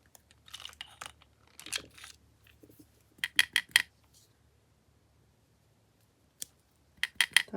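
Scissors snip through paper for a craft in short, crisp clusters of close cuts separated by quiet pauses.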